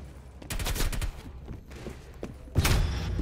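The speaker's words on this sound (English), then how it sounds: "Oh, shotgun to the face, he got me." Shotgun blasts in the video game Call of Duty: Black Ops Cold War, loud booming shots with heavy low thumps in a rapid exchange of gunfire, no talking.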